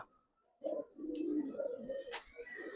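Giribaz pigeons cooing close by, a short low throaty coo rising after a brief quiet moment, with a faint chirp near the end.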